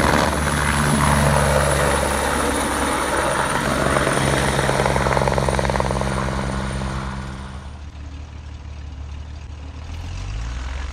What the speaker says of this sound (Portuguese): encontramos o pessoal da Polícia Federal reabastecendo esse Puma Biturbina